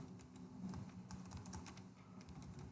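Soft, steady typing on a computer keyboard while editing a Linux hosts file, quiet, rapid keystrokes in a low-level room with no voices.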